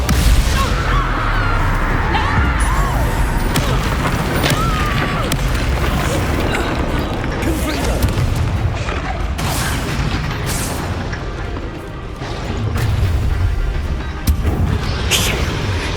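Bombarda blasting-spell explosions in Hogwarts Legacy combat sound as dense, loud booms and crashes layered over a continuous rumbling game mix, with bursts recurring across the stretch and a few grunts and shouts.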